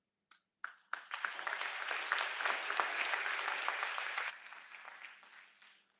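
A spring commencement audience for School of Health Sciences honors graduates breaks into applause after a few isolated claps, swells into a sustained wash of clapping, then fades out, somewhat distant and soft.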